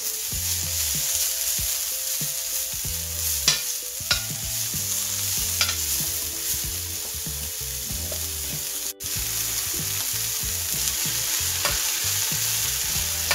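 Dill frying in an oiled skillet alongside salmon and quinoa cooking: a loud, constant sizzle with crackling pops throughout, steady and close, with no talking.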